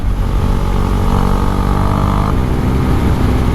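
A Husqvarna Svartpilen 401 motorcycle on the move, its engine holding a steady, loud drone close up with wind rush, no speech over it.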